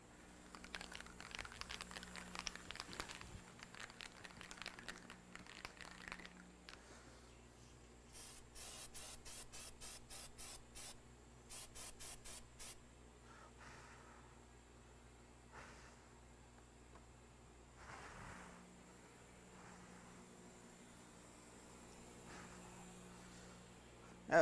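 Aerosol can of CerMark laser marking coating sprayed onto a tumbler in a workshop, heard as several bursts of close hissing spray, with a rattling or clicking series in the middle and quieter handling noise afterward.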